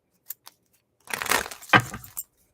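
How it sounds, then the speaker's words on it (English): Tarot cards being shuffled for a pick-a-card reading: a couple of light taps, then a dense papery riffle and flutter of cards lasting about a second, ending in a sharper snap and a final soft tap, close and fairly quiet. "So now we're gonna shuffle"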